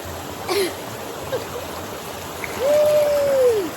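River water flowing steadily through the Jamaican countryside, a continuous broadband wash of moving water with a few short vocal sounds over it.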